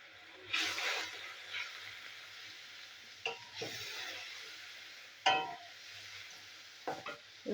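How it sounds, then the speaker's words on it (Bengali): Spice paste with chili and turmeric powder sautés quietly in a pan for rui fish curry, with soft sizzling broken by several short scraping stirs, fairly faint and without talk. "সামান্য লঙ্কার গুঁড়ো, অল্প একটু হলুদের গুঁড়ো দিয়ে মশলাটা আমি কষিয়ে নেবো।"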